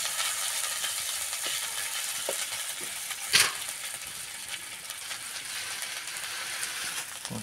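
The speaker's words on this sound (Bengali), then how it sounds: "আদা বাটা দিয়ে দিচ্ছি, ভেজে এবার আদা বাটাটা দিয়ে দিলাম। এটাকে উপরে ভালো করে কষে নিচ্ছি ফ্রেন্ডস।" Ginger paste masala fries in a pan for a village-style fish curry, a faint steady hiss with a few light utensil scrapes and one sharper clack partway through.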